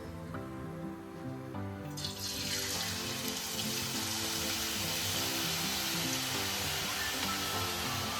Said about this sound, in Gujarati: તો આપણે તેલમાં આ જ રીતે તરતા જશું.